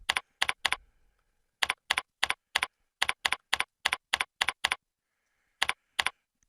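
Bursts of rapid keyboard typing, close and crisp, in quick clusters separated by short pauses; no voices.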